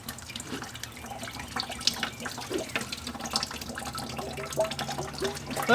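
Water runs and splashes onto a Porsche Boxster engine, a steady trickling wash with small drips and spatters throughout, fairly close and continuous with no talk.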